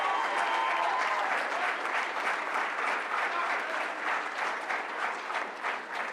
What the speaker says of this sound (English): So let's give Early College a round of applause.